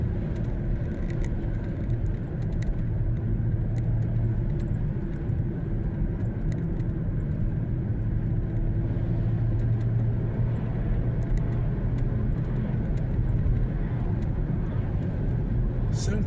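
A car climbs Boulder Canyon road, a steady low engine and road rumble with tyre noise holding evenly from start to end, with no pauses or gear changes standing out.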